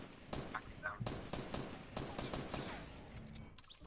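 Rapid bursts of gunfire from a video game sniper battle crackle through a busy, dense mix, with repeated sharp shots spread across the clip.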